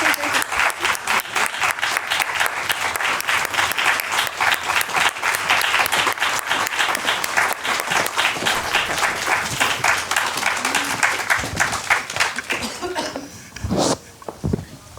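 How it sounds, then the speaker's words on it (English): An audience at a New York jewelry-week panel applauds to welcome panelists to the stage, a loud, sustained burst of dense clapping that thins and fades near the end, where a voice briefly speaks. "join me in a big round of applause to welcome our panelists to the stage"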